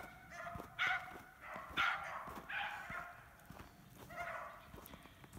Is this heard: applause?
no